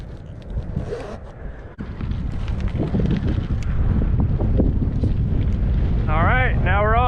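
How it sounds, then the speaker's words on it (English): Strong wind buffets a cyclist riding along an exposed ridge on a rural loop, a loud continuous roar with gusty rumble throughout and brief whistling at the end. "The wind really gets going right here."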